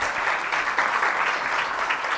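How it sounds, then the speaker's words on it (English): Audience applause for the morning speakers at a leadership seminar, dense steady clapping from a full room, continuous and fairly loud throughout. "give our speakers for the morning another round of applause"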